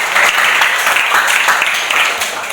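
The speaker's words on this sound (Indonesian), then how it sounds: "Baik, kita berikan aplaus." Applause from an audience of students in a classroom, a dense steady clatter of many hands clapping together, loud and sustained throughout before easing slightly at the end.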